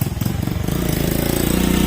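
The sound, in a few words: motorcycle engine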